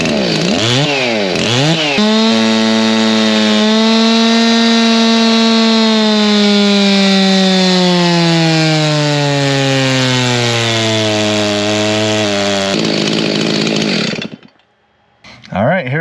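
A Stihl MS361 chainsaw fitted with a larger aftermarket carburetor screams loud and close at full throttle, its pitch slowly dropping under load before cutting off near the end.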